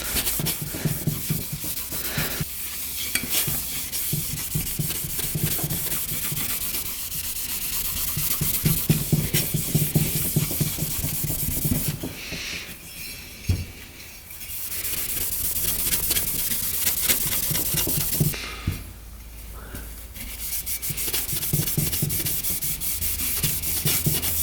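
An abrasive pad scuffs the bore of a Nikasil-plated 450cc dirt bike cylinder, a close, continuous rasping scrub in long strokes with a few brief pauses, no voices.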